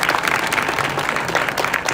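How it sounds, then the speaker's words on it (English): Audience applause at a Model United Nations opening ceremony, a steady wash of many hands clapping at moderate distance, continuous for the whole moment. "Please clap."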